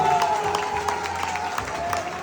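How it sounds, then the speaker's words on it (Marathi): Guests from the bride Bhavna's side clapping at a Konkan wedding ceremony, a quick run of handclaps under a steady tonal hum of music and crowd noise. "आता भावनाच्या फॅमिलीकडच्या आपल्याला टाळ्या ऐकायच्या आहेत"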